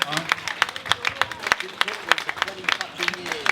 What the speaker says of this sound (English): She needs a clap.